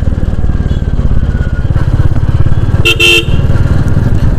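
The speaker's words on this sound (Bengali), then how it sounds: "সাথে ডাবল হর্ন লাগিয়েছে, সিঙ্গেল হর্ন কোম্পানি থেকে দিচ্ছে, আফটার মার্কেট আর একটা লাগিয়েছে।" Aftermarket double horn on a Royal Enfield Meteor 350 motorcycle blares in one short two-tone honk over the steady thumping single-cylinder engine idle during a city ride.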